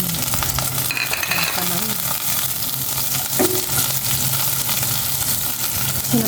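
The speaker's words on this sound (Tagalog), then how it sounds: "Magigisa ako ng bawang" Garlic sautéing in a hot pan, a dense, loud, continuous sizzle close up with a few scraping stirs and light clinks, no talking.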